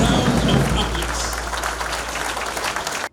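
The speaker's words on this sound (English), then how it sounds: "They deserve a round of applause." Audience at a symposium on the African peace process applauds the Nigerian police, a burst of close, dense clapping that is loudest at first, then thins slightly before cutting off abruptly.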